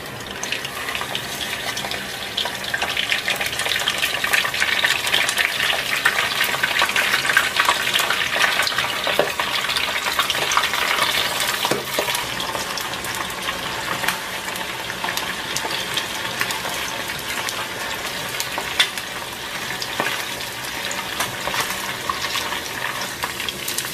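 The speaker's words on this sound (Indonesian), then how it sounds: "setelah ini kita langsung aja goreng ayamnya" Chicken pieces fry in hot oil with a continuous crackling sizzle that holds steady throughout, with no voices over it.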